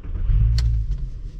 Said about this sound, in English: So let's go ahead and start her up and see if it all goes away.